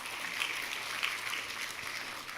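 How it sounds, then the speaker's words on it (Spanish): A church audience during a sermon breaks into steady applause, a dense patter of many hands clapping at moderate volume, holding evenly from start to finish. "un aplauso a las personas que han intentado algo 5 veces"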